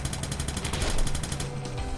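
Rapid gunfire from the video game Gal Guardians: Demon Purge, a quick burst of evenly spaced repeating shots over game music that stops abruptly near the end.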